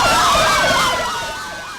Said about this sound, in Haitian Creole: Ensuite, je sonne la sirène,